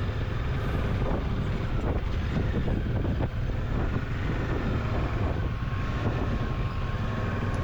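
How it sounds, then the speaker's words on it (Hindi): Strong wind roars steadily across the microphone on a high Himalayan hairpin-bend mountain road in Spiti, buffeting loudly and continuously without a break while riding a Kawasaki motorcycle. "काफ़ी तेज़ हवाएं चल रही हैं यहाँ पे।"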